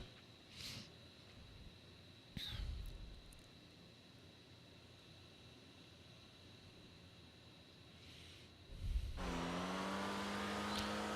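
Engine of an Elegy RH8 race car in GTA Online, a steady low hum through most of the run with brief swells, then a loud engine note rising in pitch near the end.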